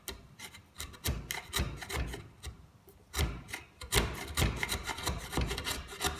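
A file rasps back and forth across a wooden spatula, cutting a groove in short, rhythmic strokes that come close and fairly loud, with brief pauses between bursts.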